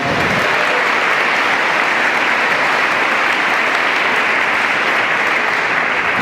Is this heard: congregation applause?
yes